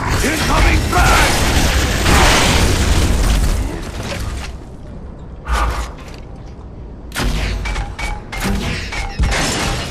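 Frag grenade blast in the video game Gears of War: Judgment, a loud booming roar amid gunfire and mechanical clatter, with shouted game dialogue.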